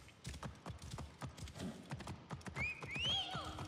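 A horse in Assassin's Creed Origins trots and gallops with a quick run of hoof clip-clops, rhythmic and close, joined by a short whinny near the end.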